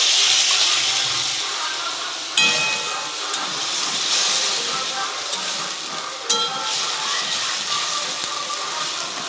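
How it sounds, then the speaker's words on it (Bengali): Water splashed into a hot pan of cauliflower kofta curry bursts into a loud, steady steam hiss, with fresh surges of sizzling at two points as more water goes in. "এবার আর একটু জল দিয়ে দেবো।"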